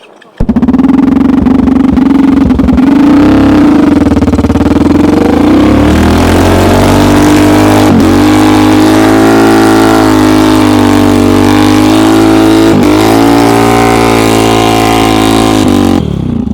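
A homemade snowmobile on a homemade track revs loudly up close, its engine rising in pitch, then settling into a steady, buzzing drone with brief dips and surges.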